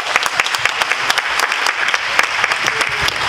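A crowd applauds at a traditional Congolese wedding reception in Coralville, Iowa, with dense clapping and sharp individual claps standing out, fairly loud and sustained throughout.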